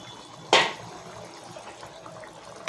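Hot water splashes into a pot of mutton curry in one short, loud pour that quickly fades into quiet kitchen background.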